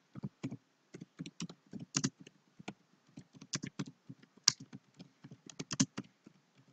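Computer keyboard keys tapped in quick irregular bursts while an answer is entered, close and fairly quiet, with short pauses between clusters of keystrokes and no talk.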